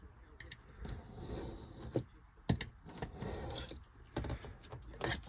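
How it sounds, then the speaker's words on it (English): A side piece is cut off a small scale model shed for a slot car layout, giving short rasping, scraping strokes at close range that come and go irregularly, with some handling noise between them. "So we'll cut the side piece off."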